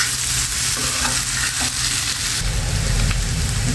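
Steady loud sizzling of pangas fish and potatoes frying in a pan, with scraping and stirring sounds throughout and no talking.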